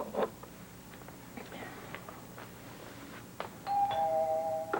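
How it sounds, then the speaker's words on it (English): A doorbell in a house sounds with a clear two-tone chime near the end, after quiet room noise with a few soft knocks and thumps. "I thought it'd be all right to ring your bell."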